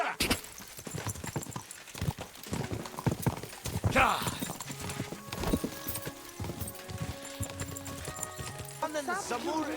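Horses gallop in a race in Kingdom Come: Deliverance II with a rapid clip-clop of hooves, a whinny rising midway, while voices and music play over the hoofbeats.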